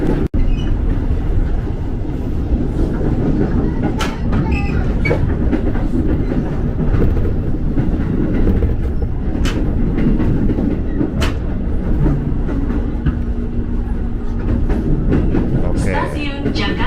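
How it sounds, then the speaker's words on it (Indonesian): Steady rumble of a KRL commuter train waiting at a red signal near Jakarta Kota station, with occasional metallic clicks and squeaks, a continuous loud drone throughout. "KRL lagi menunggu tuh dari arah Jayakarta menuju ke Jakarta Kota ya"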